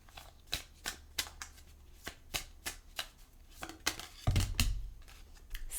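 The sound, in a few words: shuffling tarot cards before drawing a spiritual card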